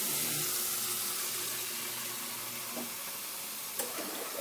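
Water pours steadily into a pitcher at a Cssi coffee machine during cleaning, a constant close hiss with a faint clink near the end and no talking.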